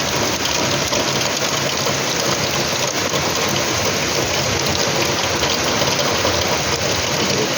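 Heavy monsoon rain pours outside a third-floor home, a dense, unbroken roar of water that stays loud and even throughout, with no voices.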